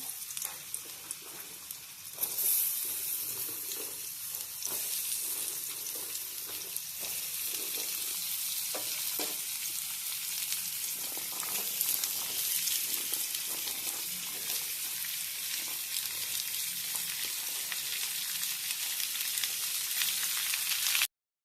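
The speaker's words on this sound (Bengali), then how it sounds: "এরপর এর মধ্যে দিয়ে দেবো কেটে রাখা আলু" Cut potatoes frying in hot oil in a wok give off a loud, steady sizzle that swells after they drop in, with faint stirring clinks under the hiss.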